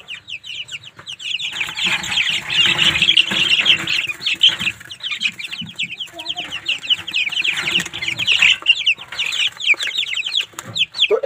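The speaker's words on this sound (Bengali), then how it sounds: "এখন আমি আপনাদেরকে দেখাচ্ছি ব্রাহ্মা মুরগির বাচ্চা" A crowd of Light Brahma chicks cheeps nonstop in a dense, overlapping chorus of thin, high peeps, steady and close throughout with only brief dips.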